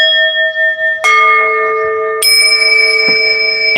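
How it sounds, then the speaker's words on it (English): A bell rings with clear, sustained tones that shift in pitch twice, sounding loud and close with no voices over it. "Ring the bell."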